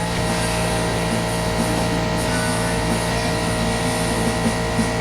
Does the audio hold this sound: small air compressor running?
yes